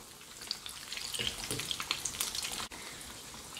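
Pork belly sizzles and crackles steadily as hot oil is poured over it in a pan, a close, continuous frying hiss with small pops and no talking.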